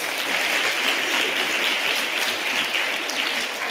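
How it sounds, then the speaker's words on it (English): A church congregation claps steadily during a Sunday Mass, the dense applause holding at an even level throughout without a break. "Clap for them."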